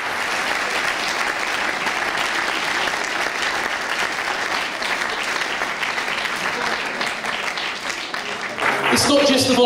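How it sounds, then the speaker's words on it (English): An awards night audience applauds its volunteers for their help over the 2014 season: steady, dense clapping from a full room that carries on for nearly ten seconds, with a brief voice and a louder swell near the end. "giving everybody a round of applause for all their help in the 2014 season"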